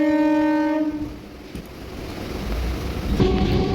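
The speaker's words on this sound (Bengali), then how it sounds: "এবার ট্রেন ছেড়ে দিল" A train horn sounds with steady harmonic blasts, then the low rumble and clatter of a passenger train pulling away from a station, heard from aboard, and a second horn blast near the end.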